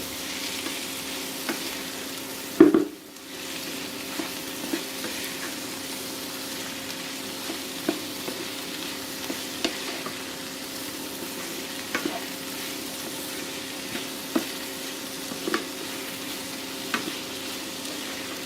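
Egg and bread being mixed in an oil-coated frying pan for breakfast, a steady soft sizzle running throughout with a sharp scrape near the start and light intermittent utensil taps against the pan.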